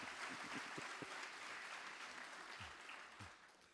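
An audience applauds the President in the chamber of the National House of Traditional Leaders: steady clapping from many hands at a moderate distance, fairly soft and sustained without talk.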